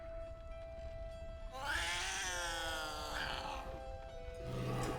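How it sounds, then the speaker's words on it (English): A bald cat in the video game Baldur's Gate III lets out one drawn-out, wavering meow lasting a couple of seconds, clear over a steady background hum. "His Majesty was a beautiful bald cat"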